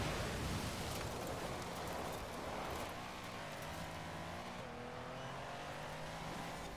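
Mercedes 6x6 drifting in the racing game Forza Horizon 4: a steady, dense roar of engine and tire noise filling the whole clip, broad and loud without a break.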